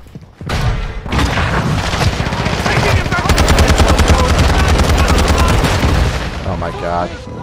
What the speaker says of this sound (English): Bring the airstrike on the way.